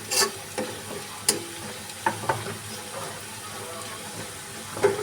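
Tadka sizzling in a pan for a soya chunk (nutri) dish, a low steady fry with scattered sharp clinks and stirring taps, fairly quiet with no talk.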